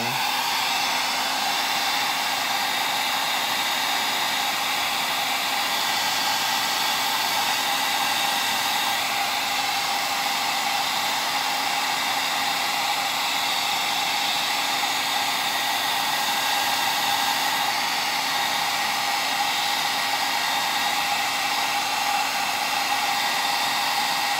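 A hair dryer runs steadily and loudly without pause, blowing on fresh paint on a miniature battle tank between coats, with no talking over the continuous whir.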